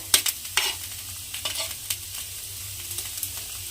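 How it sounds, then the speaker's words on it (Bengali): Grated cauliflower stirred in a frying pan for cauliflower paratha: a soft, quiet sizzle broken by several short scraping stir strokes close by, no talk. "ফুলকপিটা দিয়ে একটু নাড়াচাড়া করে নিয়েছি"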